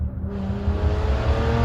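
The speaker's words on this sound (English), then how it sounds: "do y'all hear this guy revving his motor behind me?" A car revving its engine close behind and driving past, a loud, rising motor drone with strong low rumble that swells and holds across the moment.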